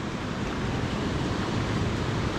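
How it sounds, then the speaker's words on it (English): A waterfall rumbles among wild rocks below a bridge in a Scottish landscape, a steady, loud broadband roar with no breaks. "the rumble of this waterfall at this other side"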